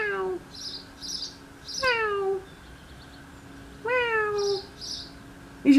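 A pet cat named Dennis meows indoors, three drawn-out falling meows spaced a couple of seconds apart, close and fairly clear, with faint chirpy bird calls in the background and a fourth meow starting at the very end.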